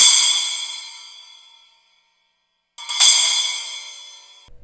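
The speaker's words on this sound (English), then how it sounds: "So this one up here is called a splash." A splash cymbal is struck twice, each hit giving a bright, shimmering crash that fades quickly into silence.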